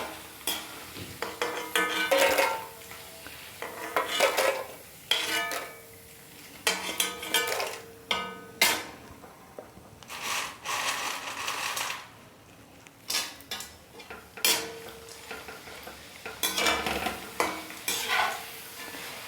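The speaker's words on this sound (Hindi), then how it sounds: "ये चिप्स हम डालेंगे इस तरह से ऑयल में और ये तल के हम तैयार कर लेंगे" Lattice-cut potato chips frying in hot oil give a steady close sizzle, broken by repeated bursts of stirring and the clink of a metal utensil against the pan, with no voices.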